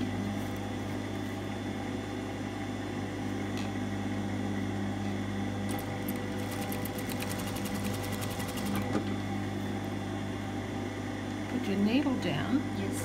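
A sewing machine runs steadily while stitching a tunic sleeve near the center back, a continuous mechanical hum with a faster rattling burst in the middle and quiet voices over it.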